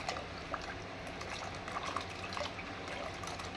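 Cut mango pieces are rinsed in water, a faint, steady sloshing and trickling with small splashes and no break in the sound.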